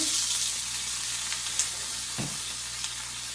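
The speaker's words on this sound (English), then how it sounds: "I'm going to add the mushrooms and get those cooking, softened up." Mushrooms and a little onion softening in a hot pan, a steady close sizzle and hiss with a couple of soft stirring clinks.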